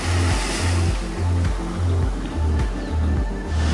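Sea of Japan waves breaking on the shore on a calm, windless morning with a solid swell: a constant loud roar of surf with rhythmic low thumps as each wave breaks, no voices.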